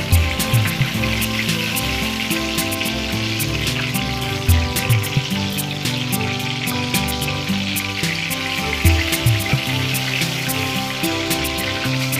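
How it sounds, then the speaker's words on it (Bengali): Black cumin seeds sizzle in hot oil as a tempering, a loud, dense, continuous crackle with scattered sharp pops. "ফোড়নটা দিই কালো জিরে পরিমাণ মতো"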